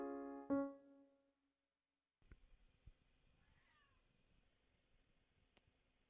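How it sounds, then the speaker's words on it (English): A house cat gives a single short meow close by after a sung note, followed by quiet room sounds and faint rustling in a mostly still indoor space. "You can hear my cat. She is in here helping out."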